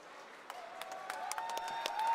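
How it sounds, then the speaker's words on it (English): A crowd at a fight event breaks into applause, scattered claps building into a steady patter that grows louder toward the end, with high tonal tones ringing through. "The crowd giving a nice round of applause here"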